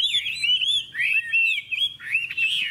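A yellow Chinese melodious laughingthrush (hwamei) with a wide fanned tail sings in a contest, close and loud, giving sweeping whistled phrases and rich warbles in three bursts separated by brief dips.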